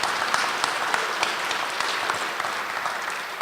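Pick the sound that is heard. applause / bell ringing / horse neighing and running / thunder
applause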